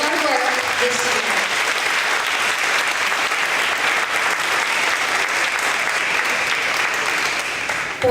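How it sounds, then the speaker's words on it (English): Sustained, even applause from a crowd at a first grade awards event for students, a loud continuous wash of clapping lasting several seconds with a voice briefly heard at the start. "let's give our students, all of our students, a round of applause for their hard work this year."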